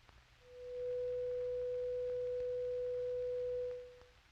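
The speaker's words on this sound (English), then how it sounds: "This simple 500 cycle tone can be represented mathematically by a sine wave." A pure 500-cycle sine wave tone swells in, holds steady and loud for about three seconds, then fades out, with a faint low hum beneath it.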